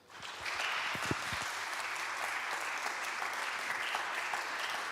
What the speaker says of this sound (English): I would ask you to join me in a round of appreciative applause.